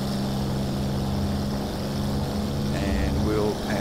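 Hawker Hurricane fighter in X-Plane 11, its propeller engine droning steadily and loudly throughout while someone talks over it.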